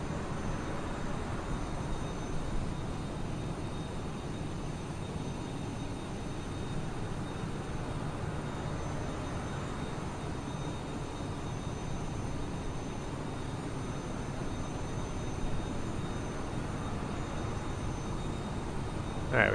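Engines of an FBW A380 airliner in Microsoft Flight Simulator 2020, a steady broad roar holding evenly throughout with no talk.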